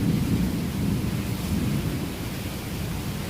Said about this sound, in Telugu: శ్రీకాకుళంలో పిడుగులతో పెద్ద వర్షం పడుతుంది.